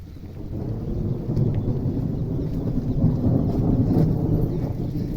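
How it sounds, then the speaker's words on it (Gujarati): Thunder rumbles through a rainstorm near a substation, a steady deep roll that stays loud and continuous for several seconds with no talk over it. "વીજળી થઈ જોરદાર"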